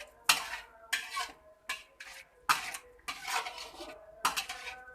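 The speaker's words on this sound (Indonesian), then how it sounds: "Lalu kemudian kita aduk kembali hingga merata." A spoon scrapes and clanks against a pan while stirring a meat and water mixture for Mie Aceh Goreng, giving repeated rhythmic metallic strokes close up with short pauses between them.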